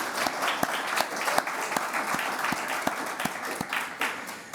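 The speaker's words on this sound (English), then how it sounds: "If we can give them a round of applause," Audience applause at a New York symposium, a steady wash of many hands clapping through the whole stretch with sharp individual claps standing out near the microphone.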